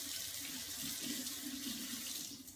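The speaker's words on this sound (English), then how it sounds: "let me rinse that off because it still has some carrot on it" Tap water runs steadily into a kitchen sink while a vegetable peeler with bits of carrot on it is rinsed beneath the stream. The splashing is close and continuous, with no voices.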